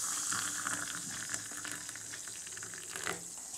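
Steady crackling fizz of baking soda in hot water, a dense hiss with tiny popping bubbles throughout, close and continuous without any voices.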